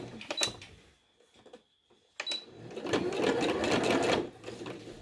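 A sewing machine runs a zigzag stitch on fabric for a washable mask, starting with a brief burst, pausing, then whirring in a steady close rattle for a couple of seconds before easing off.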